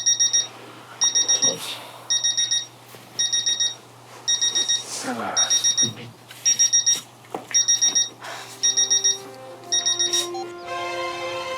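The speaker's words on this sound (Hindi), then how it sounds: "अलार्म बज रहा है" An alarm clock ringing in a home with rapid bursts of high electronic beeps repeating in an even rhythm about every second, loud and close, with a brief rising chime of tones near the end.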